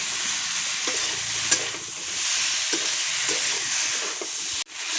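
Cauliflower and potato pieces fry with spices in a pan, a steady hiss of sizzling oil with scraping stirs and soft knocks of the spoon throughout, close and fairly loud, ending in a brief sharp clatter.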